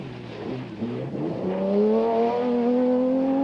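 Nissan rally car from the 1990 Dubai International Rally, its engine note climbing steadily as it accelerates. The revving tone is clear and fairly close, rising in pitch across the run, with no voices.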